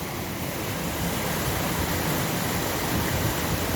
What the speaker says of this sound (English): So obviously the water runs round the weir